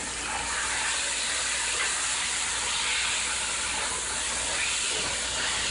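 Chicken stir frying in hot oil in a Dutch pot for a Caribbean curry gives a steady, loud, dense hiss and sizzle with no break, close up and with no talk.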